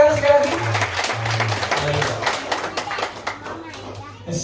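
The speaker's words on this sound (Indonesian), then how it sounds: "Can you give one more round of applause?" An audience at a church sermon claps in a burst of applause, scattered and mid-distance, mixed with the murmur of voices and children nearby.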